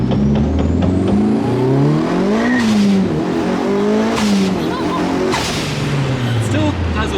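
A Mitsubishi Evo 5 fitted with a new turbo accelerates hard, the engine note rising through the revs, dropping at a shift and climbing again. It is loud and close, heard from inside the car with no talk.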